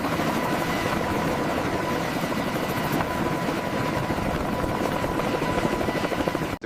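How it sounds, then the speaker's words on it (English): A military helicopter landing on an unimproved airstrip fills the air with a loud, steady rotor roar and engine whine that continues without a break. "the insertion of these critical rotary wing assets begins"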